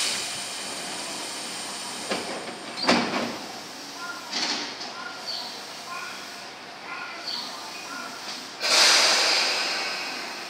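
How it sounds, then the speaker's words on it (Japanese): Doors of a Tobu 10030 series train closing at Narimasu Station, with sharp pneumatic hisses and thuds amid a soft electronic chime on the platform, ending in a loud air release. "ドアが閉まります。"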